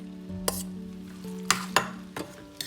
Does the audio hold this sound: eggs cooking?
yes